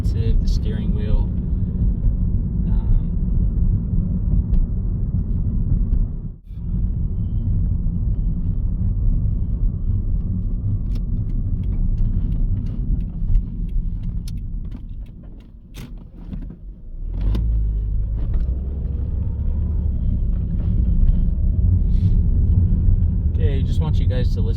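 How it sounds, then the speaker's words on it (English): A 2010 Toyota Corolla S engine pulls away and accelerates along a street, its steady low rumble heard from inside the car under talk, with one brief dip partway through. "how it sounds when we get out on the main street and get up and going. It is a very, very smooth, nice accelerating engine"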